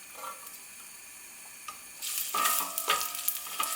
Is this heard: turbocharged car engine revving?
no